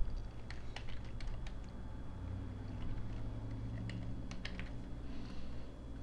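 Keys on a computer keyboard clack softly and irregularly as account sign-up details are typed, a quiet close-up patter with no talk.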